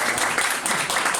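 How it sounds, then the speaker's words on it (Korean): Brief burst of warm applause from a small-room audience at a book concert lecture, dense clapping at steady loudness throughout with no voices over it. "뜨거운 박수로 선생님 부탁드립니다"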